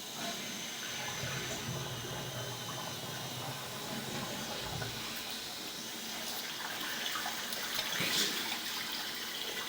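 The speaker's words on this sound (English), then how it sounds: "We are running some water." Water runs steadily from a tap, a continuous hissing splash that swells slightly near the end, with no one talking.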